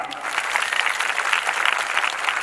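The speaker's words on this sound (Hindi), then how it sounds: "जोरदार ताली" A gathered audience at a Bhagwat Katha religious recitation claps steadily and loudly, a dense sustained round of applause with no voices over it.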